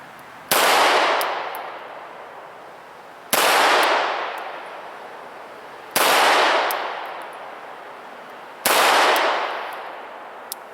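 A CZ 75 B pistol fires at a target 5 yards away: four loud, sharp shots a few seconds apart, each leaving a long ringing decay, with no talking between them.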